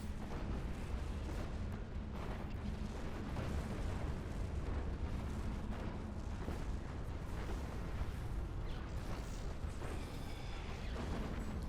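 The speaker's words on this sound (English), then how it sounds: "Factory goes down, so does the nuke launcher" Buildings blowing apart in a Planetary Annihilation match, a factory and a nuke launcher going down, as a dense unbroken roar of rumbling explosions and booms that stays loud throughout.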